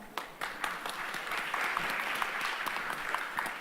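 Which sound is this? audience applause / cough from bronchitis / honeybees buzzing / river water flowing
audience applause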